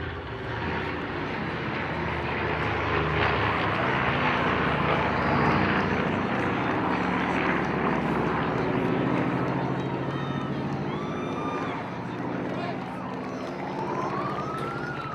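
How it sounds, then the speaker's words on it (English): A bomber aircraft comes around on a second pass over a Memorial Day parade, its engine drone broad and continuous, moderately loud throughout. Crowd noise and a siren-like tone mix in faintly underneath. "Bomber coming around for the second pass."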